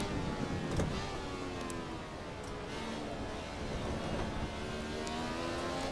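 A Ferrari 312T racing car engine revving hard in the Assetto Corsa driving game, a continuous high droning whine that rises and falls in pitch as the revs climb and dip, steady and moderately loud.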